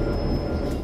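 An F7 or SD40 locomotive in Train Sim World 2 on the Clinchfield Railroad, rolling with a steady, dense rumble and a faint high whine, continuous and fairly loud, with no talk over it.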